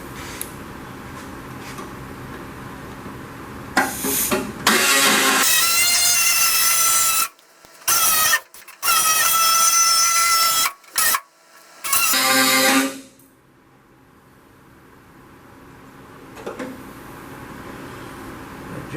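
A power drill whines in several loud bursts separated by short pauses while drilling a hole during wiring work on a 1969 Chevy C10, then stops, leaving a quiet room with faint background noise.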